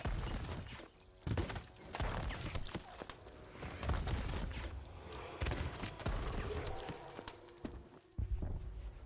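A blunderbuss blast in the pirate video game Sea of Thieves amid dense, noisy combat sound, with thumps, clatter and steady rumbling throughout and no clear voice on top.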